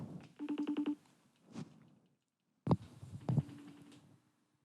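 A FaceTime call begins with a rapid burst of repeating electronic tones, then a few muffled handling bumps and a short chime-like tone, all fairly faint.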